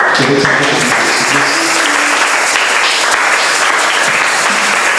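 A church congregation applauds during a French-language sermon, dense steady clapping filling the space for the full stretch, with a few voices briefly audible underneath near the start.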